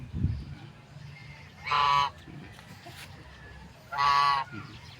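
Two loud nasal honking calls from a duck, each about half a second, spaced a couple of seconds apart over a quiet outdoor background in Camarines, Philippines.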